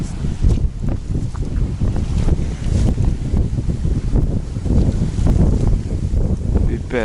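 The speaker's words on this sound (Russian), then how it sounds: "Смотрите, какие волны." Wind-driven waves churn on a river crossing, making a continuous rough, low rumble with heavy gusts buffeting close by and a voice heard now and then.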